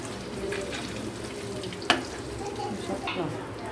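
An egg and pointed gourd chop fries in a pan over medium heat, a low steady sizzle with a single sharp knock as it is turned, nothing spoken.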